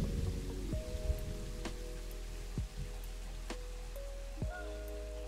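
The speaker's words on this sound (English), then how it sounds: "I really wish it would stop raining." Steady rain falls in the Planet Zoo video game, a continuous hiss of drops on surfaces with soft tonal game sounds layered over it and no talking.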